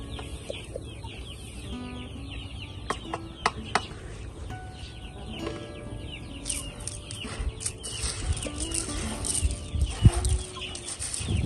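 Breeder chickens cluck and squawk, fed eggshell pellets, in a busy flock heard up close with scattered sharp calls and rustling, and no talking.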